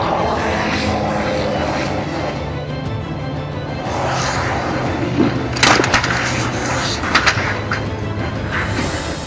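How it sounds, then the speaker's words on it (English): A Hughes 369D helicopter's engine drones steadily with a hum and some rattling bursts, moderately loud, during an emergency landing near a Maryland suburb. "Hughes 369D helicopter goes down near Maryland suburb"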